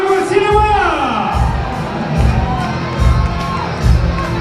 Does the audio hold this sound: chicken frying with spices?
no